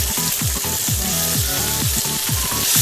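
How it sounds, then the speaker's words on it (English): Bok choy roots fry in a hot pan with a steady, close sizzle that runs throughout, joined by a few low tonal sweeps. "So first I'm gonna fry the bok choy roots"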